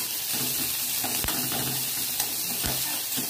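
Chopped onion sautéing with a pinch of asafoetida in a pan, a steady close sizzle and frying hiss with occasional stirring clinks and scrapes, no voices.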